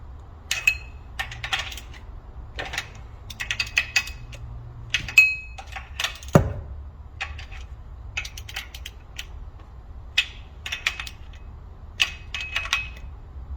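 Bolts being hand-tightened on a Toyota Previa, a scattered series of sharp metallic clicks and ratchet ticks with one louder clank midway, no talk.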